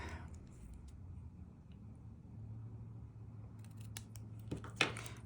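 Scissors trim paper for a handmade card, a few short snips near the end over a low steady room hum, close but soft, with no talking.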